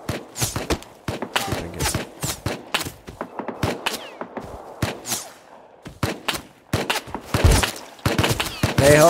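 Rapid gunfire in the video game Rust rings out in quick irregular bursts of sharp cracks, some clustered into volleys, with brief pauses between strings of shots and little talk.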